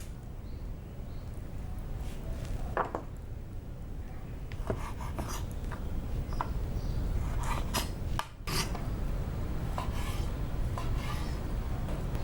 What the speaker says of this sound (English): So the first thing I'm going to do is cut the pork into